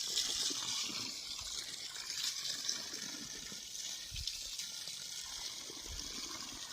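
Water from a well water system gushes steadily out of an open tap, a continuous hissing flow heard for several seconds at an even, moderate level.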